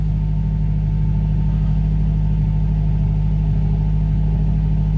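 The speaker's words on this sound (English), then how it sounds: "I'm just holding my foot on the throttle." A £500 barn-find Mercedes 190E engine runs at a held, raised throttle, a steady loud droning hum with strong low tones, close and continuous without voices.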